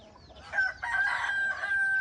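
A rooster on a rural farm in Zambales crows once at about 4 AM, a loud drawn-out call rising over quiet background hum, with other fowl faintly clucking around it.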